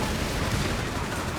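A 17-pounder anti-tank gun firing in Company of Heroes 3 amid a dense, loud wash of battle noise, with rumbling booms and scattered gunfire blending together across a brief moment.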